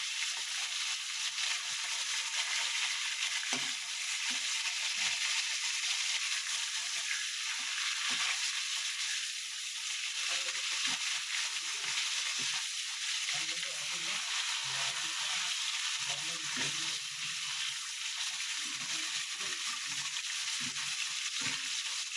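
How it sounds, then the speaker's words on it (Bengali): Katla fish pieces frying in hot oil in a pan, a continuous loud hissing sizzle throughout with scattered soft pops and crackles. "মাছটা ভাজা হয়ে যাক, তারপর মাছটা তুলবো।"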